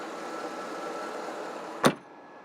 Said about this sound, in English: The only thing you hear in the background is the pump for the rear suspension.